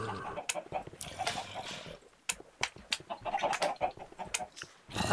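Chickens cluck in the Minecraft video game, several short squawks and clucks scattered over steady game sounds, with a voice talking over them at times.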